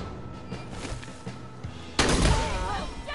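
Shotgun fire in the Wasteland 3 video game, a heavy blast with a lingering rumble following softer thumps of combat, all under someone talking.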